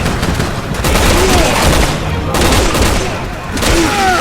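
Loud, dense gunfire in Resident Evil 6, including sniper rifle fire, comes as a near-continuous volley of shots and blasts with short pauses, and a voice talks faintly underneath.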